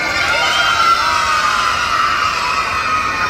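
A crowd of children shouting and cheering at a Maya the Bee stage show, a loud, dense, continuous roar of young voices that stays steady throughout.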